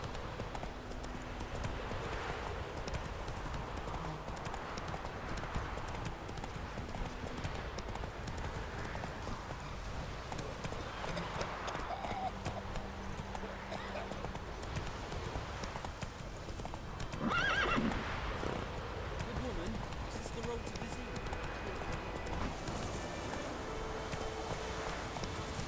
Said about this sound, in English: Steady on, Roach